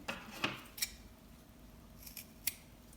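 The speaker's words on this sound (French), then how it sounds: "on va couper les angles de la manche pour éviter les surépaisseurs" Scissors snip the corners of a shirt sleeve: a few faint, sharp, separate cuts spaced irregularly in a quiet room.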